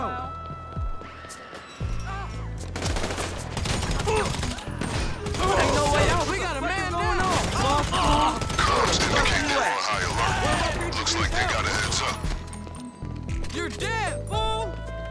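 Gunfire and clattering mechanical action from GTA V Online fill a busy stretch of gameplay, loud bursts mixed with other game noise and a voice talking over parts of it.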